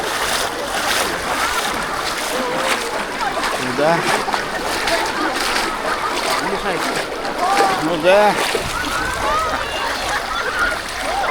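Repeated close splashes ring out as people wade into warm, muddy river water, sloshing and churning in an uneven rhythm, with people talking over the water.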